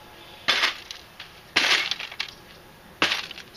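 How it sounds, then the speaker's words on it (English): Printer glass smashed with the sledgehammer end of an axe, three sharp crushing impacts about a second apart, each followed by brief crackling and tinkling of breaking glass, close and loud. "I just busted the glass out of it"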